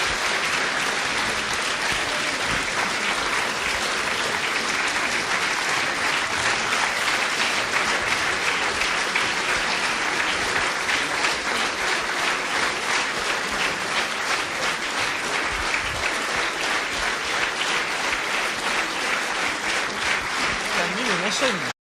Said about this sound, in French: je vous demande d'applaudir de nouveau M. Rives